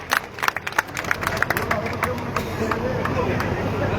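A rally crowd for a BJP candidate on Kath Mandi Road claps loudly and steadily to welcome a guest, the dense applause mixed with crowd murmur and scattered sharper claps nearby.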